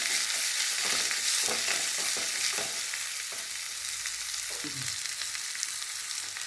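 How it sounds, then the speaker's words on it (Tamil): Finely chopped shallots sautéing in a pan for red chili coconut chutney, a steady bright sizzle with intermittent scraping stirs, close up and alone without voices. "சின்ன வெங்காயத்தை பொடி பொடியாக அரிஞ்சு வச்சுருக்கேன் இதை நல்லா வதக்கணும்"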